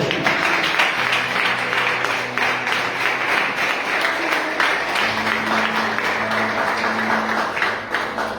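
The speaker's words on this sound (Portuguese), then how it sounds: "dê uma linda salva de palmas ao Senhor" A church congregation at a communion service gives a sustained round of applause, a thick, even wash of clapping. Faint low tones, likely instruments or voices, sit beneath it.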